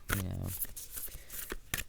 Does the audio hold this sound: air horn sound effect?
no